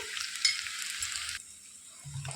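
Sizzling oil in a pan of frying brinjal and dry fish curry as turmeric and ginger-garlic paste are stirred in, a steady close hiss that drops off partway, then a brief scrape of the spoon.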